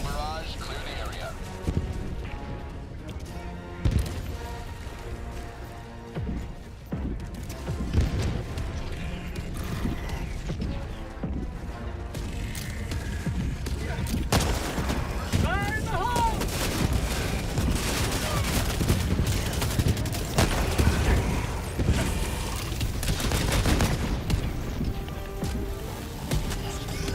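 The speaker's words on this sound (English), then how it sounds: "Firing orbital barrage, clear the area." Orbital barrage strikes in the game Helldivers 2 land as a sustained run of heavy explosions and gunfire, booming and rumbling continuously for nearly half a minute at moderate level.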